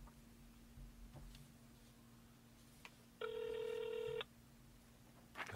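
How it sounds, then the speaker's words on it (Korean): A phone call being placed: a few quiet dialing beeps followed by a single clear electronic ringback tone lasting about a second, then a soft click, with no talking. "제가 한번 전화 통화를 해보도록 하겠습니다"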